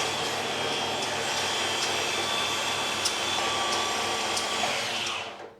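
A milling machine head running rough with an engraving cutter gives a loud, steady whining drone with faint rattles, close by, before spinning down at the end.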